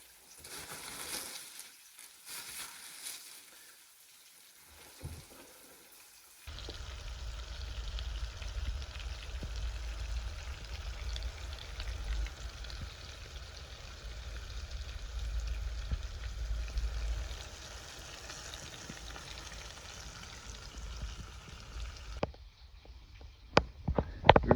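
Brook trout cooking over an open fire outdoors in Labrador, heard as a steady, faint sizzle and crackle over a low rumble, with no talking.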